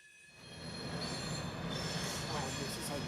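A CSX freight train rolls past, its steel wheels squealing loud and high against the rail over a steady roar of passing cars, building within the first half second and holding near and continuous to the end.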